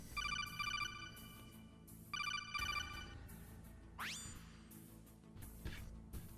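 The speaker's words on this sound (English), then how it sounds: "We're going to get a phone call." An incoming call rings in the Metal Gear Solid video game, two bursts of a bright electronic double-trill ringtone followed by a rising sweep and quieter tones, up close and clear with no voices.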